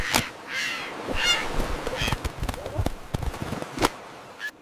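Cawing bird calls in a LEGO animation come in several short, sharp bursts, mixed with clicks and scattered effects over a busy, fairly quiet background.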